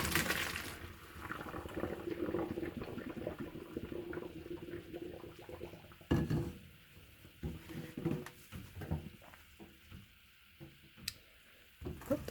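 Cooked noodles are tipped into a colander in a kitchen sink, a brief rush of pouring water followed by quieter dripping and trickling with faint clicks, fairly soft and without talk.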